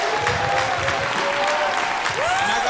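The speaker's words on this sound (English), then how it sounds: "Give a round of applause for New York City" Crowd applause greets a producer introduced at a beat-battle reaction event, a steady dense wash of clapping filling the room for the full stretch, with a sustained tonal whine sliding beneath it.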